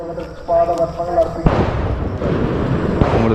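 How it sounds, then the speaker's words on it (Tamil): Firecracker blasts set off to keep wild animals away along the forest pilgrimage trail from Kalaikatti to Pampa, Sabarimala; sharp bangs arrive at about 1.5 and 3 seconds, each with a broad rumbling tail, following a stretch of talk. "உங்களுக்கு இந்த வெடிபுற சவுண்ட்லாம் கேட்கும், டப்பு டப்புன்னு கேட்குற தூரத்தில்."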